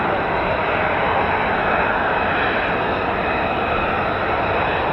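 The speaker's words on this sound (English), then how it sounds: "Well, we did sound like a million F-35s, it's now one." Loud, continuous roar of an F-35B stealth fighter jet engine with Royal Navy and RAF squadrons, a steady broadband rumble holding for the whole stretch with no break.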